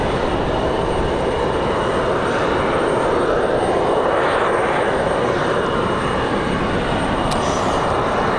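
An Air Canada jet airliner roars past at Raleigh-Durham airport on a windy day, a loud, steady broadband engine rush that fills the whole stretch with no talking.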